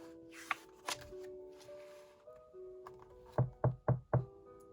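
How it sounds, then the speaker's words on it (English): Four loud, evenly spaced knocks on a window ring out near the end, after a few scattered thuds over a soft background of sustained tones. "Who's knocking on Harvey's window so early in the morning?"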